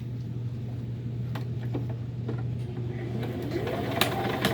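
A sewing machine stitches a seam on a fabric Christmas tree, its steady low motor hum running under faint clicks and rustles of fabric.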